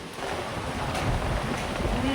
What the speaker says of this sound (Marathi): वारं तेवढं सुटलंय.